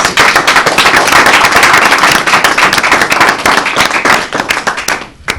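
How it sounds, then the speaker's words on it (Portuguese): A crowd's loud, dense applause fills an award ceremony for the Krus di Merito 2015, sustained and close throughout before thinning slightly in the final moments. "Um forte aplauso"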